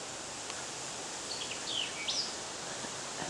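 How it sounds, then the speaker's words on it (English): Faint birdsong in woods, a few thin chirps and whistles rising out of steady broadband noise like wind or rushing water. "I hear the birds singing now."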